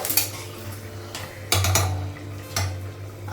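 Boiled potatoes mashed and stirred in a cooking pan, a metal utensil striking and scraping the pan in a few sharp close clanks over a low steady hum, with no talking.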